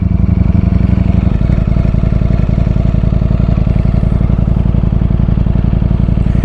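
A motorcycle being ridden gives a loud, close, continuous engine drone with a steady pulsing throb and a slight shift in pitch early on, with no voices over it.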